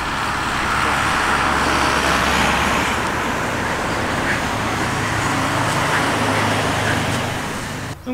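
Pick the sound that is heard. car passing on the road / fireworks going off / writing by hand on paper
car passing on the road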